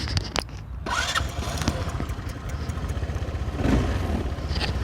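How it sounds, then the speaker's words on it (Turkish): An RKS motorcycle engine starts up. A few clattering cranks are followed by a catch into a steady, near idle, with a slight rise in revs toward the end. "Şimdi RKS'yi çalıştırıyorum arkadaşlar. RKS'nin bir sesini duyalım."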